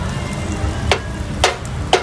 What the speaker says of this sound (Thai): เอาไข่เทใส่กระทะเลยครับ